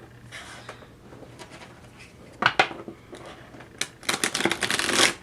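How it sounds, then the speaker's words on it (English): A deck of tarot cards is shuffled by hand, with soft riffling at first and then two louder bursts of flapping, clattering cards, close and with no talking. "Oh, the cards do not want to shuffle."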